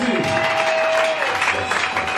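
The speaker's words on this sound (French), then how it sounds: "Les colonnes peuvent acclamer très fort pour la gloire du Seigneur." A church congregation at a French-language evangelical service claps loudly, a dense, steady wash of applause throughout with a sustained tone ringing over it early on.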